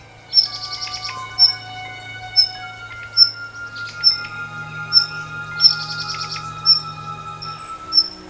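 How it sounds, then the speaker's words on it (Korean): Sharp, high alarm calls of Daurian redstart parents at a snake nearing their nest repeat in a steady rhythm, each a short piercing note, with fainter chirps and insect buzz between them. "날카로운 울음소리가 둥지 주변을 가득 메운다."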